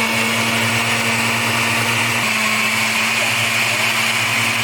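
A kitchen blender whirring steadily through green spaghetti sauce with tomato bouillon, a loud constant motor whine with a slight pitch drop midway, close and uninterrupted.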